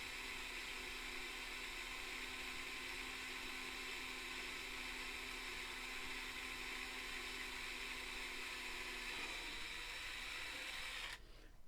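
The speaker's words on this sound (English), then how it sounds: "I've got a 5mm, as you can see, in a drill" Electric drill with a 5mm bit boring gently through a hole during a barn staircase build, a steady faint whine held for about nine seconds before it shifts and cuts off.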